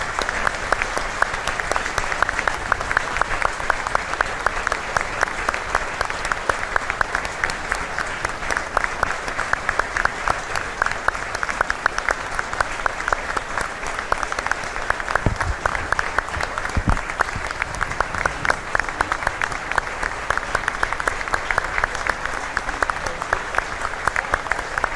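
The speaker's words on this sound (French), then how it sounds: "on va se taire et respecter ces minutes d'applaudissement" Long tribute applause from a crowd at a rugby match, dense continuous clapping that holds steady and fairly loud throughout, with no voices rising above it.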